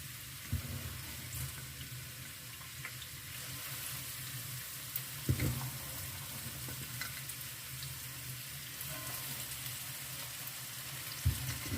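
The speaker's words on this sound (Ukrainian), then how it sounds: "сковорідка розігрілась і висипаємо туди овочі" Steady sizzling of onions and peppers frying in a hot pan, with occasional sharp clicks and clatters of stirring, no voices.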